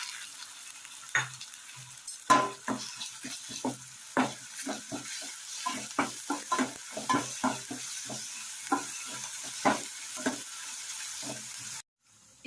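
Ginger garlic paste fries in a pan while being stirred, giving a soft continuous sizzle broken by repeated scraping strokes of a spoon at an irregular rhythm, close and moderately loud, ending with a brief pause.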